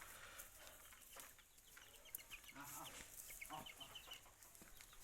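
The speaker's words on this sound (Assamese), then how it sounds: "চব লোকেল মুৰ্গী" Local free-range chickens on a small poultry farm, faint clucks and short calls scattered through a quiet outdoor background, heard from some distance.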